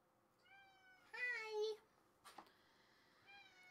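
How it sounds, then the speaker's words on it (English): A cat meows several times at close range, tonal calls with a louder drawn-out meow in the middle and a softer one at the end, alongside a brief human vocal sound in a quiet room. "Hello, cat."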